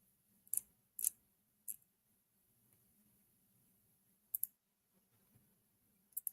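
Computer mouse clicks come in sharp, close bursts, a few quick pairs spaced irregularly over a quiet background hum.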